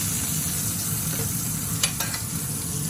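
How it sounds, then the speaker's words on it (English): Onions go into a hot frying pan, giving a loud, continuous close sizzle with a few brief stirring scrapes near the end and no talking. "And we're gonna throw in our onions."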